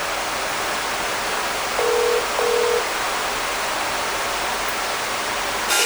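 Two short electronic phone tones sound in a row, a steady beep-beep heard faintly through a constant hiss on the line.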